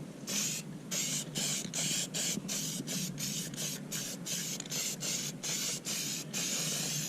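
Rust-Oleum gloss black paint sprayed from an aerosol can onto a lawn mower deck, a run of short hissing bursts close to the microphone with brief gaps in a quick, steady rhythm.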